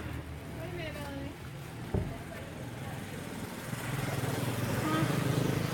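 Mopeds drone and rise steadily on a busy street in Bali, a continuous rumbling buzz with a brief knock partway through.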